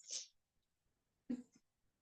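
A single sneeze is heard, a short sharp burst at the start, followed after a pause by a brief voiced sound, all in a quiet room.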